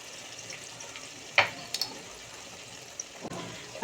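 Four halved green chilies and ground cumin sauté in a pan with a soft, steady sizzle, broken by a few sharp clicks and scrapes of stirring.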